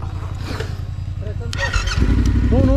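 A motorcycle engine idles and rumbles nearby on an adventure ride, growing louder toward the end as people talk over it.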